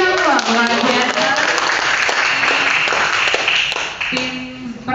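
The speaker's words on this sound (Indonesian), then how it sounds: "Berikan tepuk tangan sekali semua" Audience applause following a speech at a school debate competition, a dense steady wash of clapping filling the room while a host's voice carries over it near the end.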